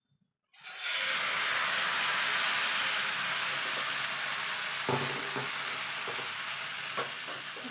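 Patishapta batter hits an overly hot frying pan and sizzles loudly and continuously, starting abruptly after a brief silence, with a few soft clinks and scraping stirs near the end.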